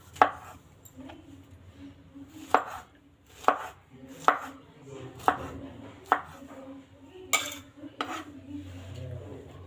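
A knife chops through fresh strawberries on a cutting board for a Russian salad, giving a steady run of crisp, close taps roughly once a second with faint kitchen clatter between them.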